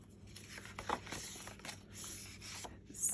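A paper trimmer blade slides through a sheet of paper with a short, close scraping cut, a few rasping strokes in quick succession with no talking.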